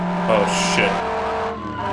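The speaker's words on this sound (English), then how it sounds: "Two car crashes at once?" Cars crash in the video game Thirty Flights of Loving, with a loud engine roar and tire squeal building to a jolt of impact noise, all within a couple of seconds.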